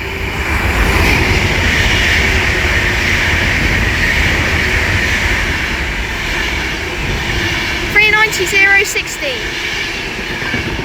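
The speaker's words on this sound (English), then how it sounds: "We're about to have an Avanti West Coast class 390 Piccadilly pass by from Crewe to London Euston" An Avanti West Coast class 390 Pendolino electric train runs past on the West Coast Main Line at Watford Junction, a loud, steady broadband rush lasting throughout, with brief high squeals near the end.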